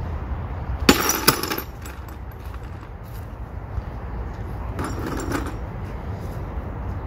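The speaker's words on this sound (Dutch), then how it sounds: "Het andere bordje mag je in de emmer leggen en kapot gooien." A small plate is thrown into a bucket and smashed during a group game in Oosterhout: one sharp crash with quick clinking shards near the start, then a softer rattle of pieces later, over steady room noise.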